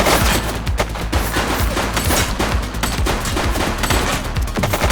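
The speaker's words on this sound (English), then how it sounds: "Shots fired!" Dense, sustained gunfire from a police shootout in the video game The Precinct, with rapid overlapping shots and bursts at steady loudness through the whole stretch, with no talking.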